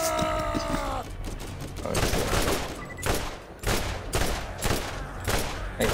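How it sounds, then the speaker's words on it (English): Rapid gunfire rattles in bursts through a Borderlands shootout, each volley loud and close with brief gaps between, and a voice talks faintly underneath. "I'm shooting at this guy"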